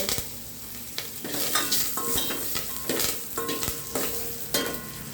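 Curry leaves sizzle and crackle in hot oil while a pan of broad bean curry is cooked, with steady frying hiss, stirring scrapes and a few sharp utensil clinks throughout.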